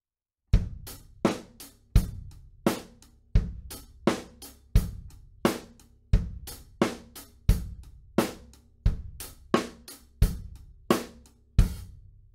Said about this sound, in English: If we put that with our bass drum and snare drum, we're going to have this sound.